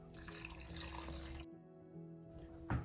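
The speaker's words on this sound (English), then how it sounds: "Let's pour the juice over the pickles" Pickle brine is poured into a jar over refrigerator-pickled garden vegetables, making a short, close, splashing liquid pour that stops briefly and resumes, with a soft knock near the end.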